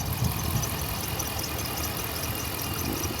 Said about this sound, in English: the Hemi actually sounds decent